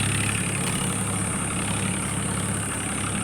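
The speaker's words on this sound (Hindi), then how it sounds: "अब यहाँ देखो ट्रैक्टर की गड़गड़ाहट की आवाज़ भी यहाँ आ रही है।" A tractor engine rumbles at a steady idle close by, a continuous low throb with a constant mechanical drone and no breaks.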